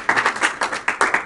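A handful of separate hand claps come from a small meetup audience in San Francisco, sparse and uneven, with no voices over them.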